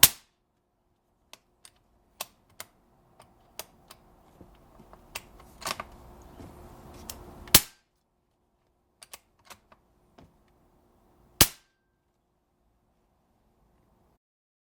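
An EDgun Matador .25 air rifle fires three sharp, loud shots spread over roughly twelve seconds, with quieter clicks and mechanical handling sounds between them.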